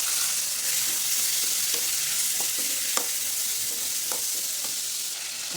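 Onions and tomato sautéing in hot oil for a Tamil eggplant kuzhambu, a steady close sizzle with a few scraping stirs and no talking.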